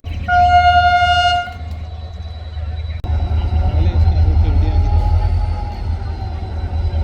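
A train on the Thar desert line near the Pakistan-India border, idling loud and close, with a sustained horn-like tone in the first second, then a rumbling engine and wheel noise that continues steadily.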